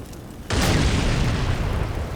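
An explosion hitting infantry in the Combat Mission Black Sea wargame, a sudden loud blast that swells into a sustained, dense roar of debris and rumble, heard alone.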